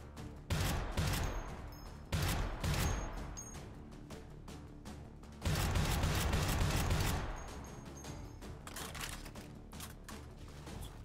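Rapid bursts of gunfire from a gun in the video game Hotdogs, Horseshoes and Hand Grenades 2, with sharp repeated cracks in two dense volleys and a few scattered shots between them.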